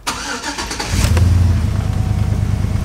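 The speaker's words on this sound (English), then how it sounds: "I'm gonna let it idle for a little bit, let it warm up." A car engine, its spark plugs freshly regapped, cranks briefly and catches, then settles into a steady, rumbling idle that carries on alone at close range.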